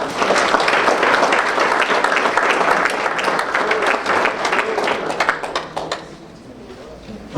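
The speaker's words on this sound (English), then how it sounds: "if we could give a round of applause to the preparation of Rhonda Howland-Shield and family" A banquet audience at a county sports hall of fame dinner applauds the meal preparers, a dense, sustained round of clapping that thins out toward the end.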